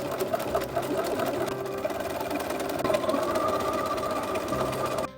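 A sewing machine stitching a thrifted garment runs steadily and close, a fast even mechanical chatter that continues almost without pause and stops abruptly at the end.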